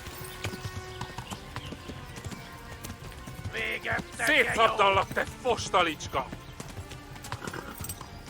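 Horse hooves clip-clop at a steady gallop in the medieval video game Kingdom Come: Deliverance, an exhausted mount running under loud in-game shouting in Hungarian, with a whinny rising partway through.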